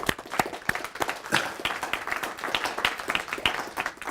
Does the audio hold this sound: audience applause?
yes